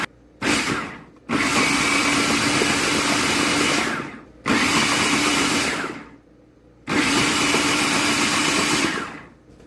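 A food processor pulses roasted vegetables with salt and black pepper for ajvar. A brief burst is followed by three long, loud whirring runs, each stopping abruptly and winding down between pulses.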